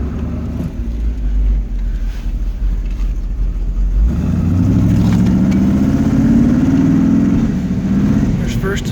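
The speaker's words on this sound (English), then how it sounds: "The exhaust sounds nice." 1937 Ford Coupe engine and exhaust while driving, a close, steady low drone that steps up in level partway through as the car pulls through the gears. Light background talk is heard under it.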